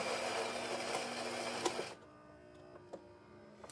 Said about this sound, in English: Can you hear that grinder running?